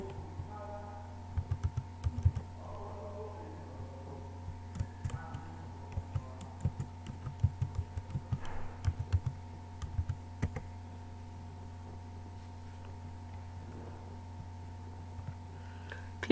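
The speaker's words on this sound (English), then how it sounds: "Open your EMC and then put in your username and your password." Computer keyboard typing, irregular bursts of close, crisp key clicks with pauses between short runs, over a steady low hum in a quiet room.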